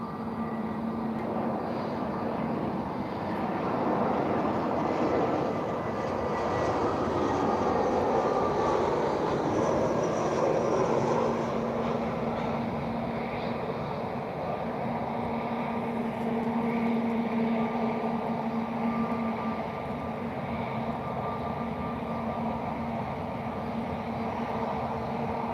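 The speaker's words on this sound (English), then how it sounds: "Right in time for an EasyJet landing." An EasyJet airliner landing at Lisbon Airport on a windy, cloudy day, a sustained distant engine roar that swells and fades over about twenty-five seconds, with no talk.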